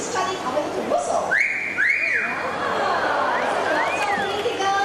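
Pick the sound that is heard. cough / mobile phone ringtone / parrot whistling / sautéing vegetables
parrot whistling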